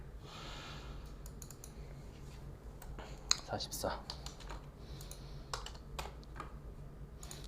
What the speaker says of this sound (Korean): 블루투스 키보드를 버려야 되나 봐. 바꿔야 되나 봐.